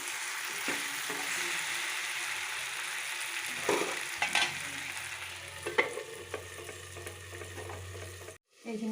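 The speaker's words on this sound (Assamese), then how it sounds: "তো এতিয়া মই হাফ ফ্ৰাই মাছখিনি দি দিম।" Half-fried fish sizzles in a pan, a steady crackle with intermittent scraping and stirring clatters, fairly quiet and close, ending in a brief cut.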